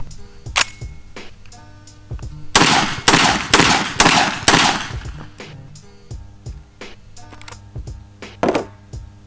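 A Genesis Arms GEN 12 semi-automatic 12-gauge shotgun fires buckshot outdoors, a rapid string of about five loud, sharp blasts, with a few scattered single shots before and after.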